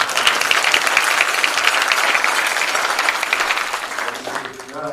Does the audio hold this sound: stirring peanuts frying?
no